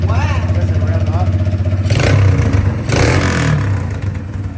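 A cheap Kawasaki Bayou ATV under repair, its engine idling with a steady throb and then revving up sharply twice, loud and close, while people talk over it.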